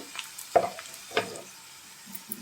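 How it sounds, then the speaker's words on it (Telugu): Small onions fry in a pan with chili powder for an onion pulusu, giving a soft sizzle broken by a couple of sharp scrapes as they are stirred. "ఇవి కొద్దిగా వేగినాక ఇప్పుడు ఈ చిన్న ఉల్లిగడ్డలు వేసుకోండి"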